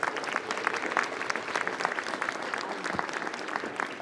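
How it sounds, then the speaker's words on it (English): Audience applause at a middle school ribbon cutting, a steady wash of many hands clapping at even volume throughout, with no talking over it. "Let's give a round of applause for that."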